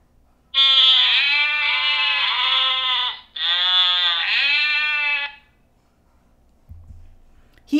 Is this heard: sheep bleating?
yes